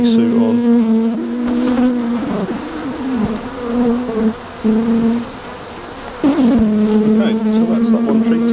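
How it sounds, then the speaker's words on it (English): A colony of honey bees at an opened hive during an oxalic acid treatment gives off a loud, steady droning hum that fills the whole stretch, with brief dips, and no one speaks over it. "the bees were alerted to the fact that we're here"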